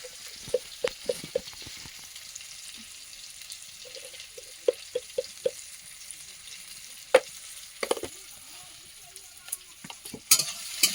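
Food sautéing in a pan with a faint steady sizzle under sharp, irregular clinks and scrapes of a spoon stirring against the metal, some taps clustered in quick runs.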